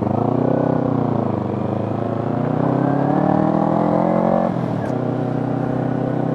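A custom Kawasaki Ninja 250R streetfighter motorcycle revs loudly up close, its engine note rising and holding in sustained pulls before dropping back to a rumbling idle, with a brief sharp sound near the end.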